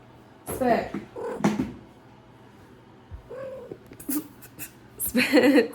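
A pet cat lets out several short, close meows and chirping cries in bursts, with breathy purring sounds between them and quiet gaps, in an indoor room.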